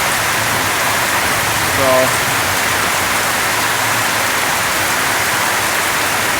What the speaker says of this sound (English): I thought you guys like to see rain in the Philippines